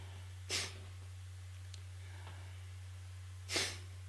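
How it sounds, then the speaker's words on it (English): Two rapid, sharp exhales forced out through the nose during a breathing exercise, each a short loud burst about three seconds apart, with quiet between them and a steady low hum underneath. "Look at rapid, sharp exhales through the nose."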